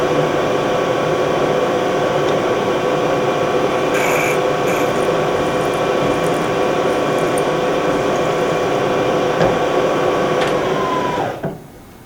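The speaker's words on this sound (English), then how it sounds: "Now I'm going to drill it to the depth that I desire." A long, steady machine hum and whine as a hole is drilled to depth in metal, with occasional short scraping cutting noises, ending as the motor winds down and stops.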